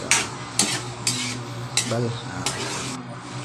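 Pork ginaling is stirred with potatoes and carrots in a pan, giving sharp utensil scrapes and clanks against the pan about every half second over a steady background hiss.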